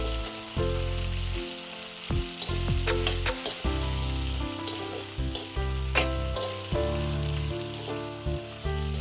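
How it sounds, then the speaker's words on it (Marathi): Carrots, peas and fresh chickpeas are stirred in a pan of hot oil for a traditional mixed vegetable dish, giving a loud, continuous sizzle broken by the knocks and scrapes of the stirring spoon. No one speaks. "आता परत एकदा मिक्स करून घेऊ आपण हे"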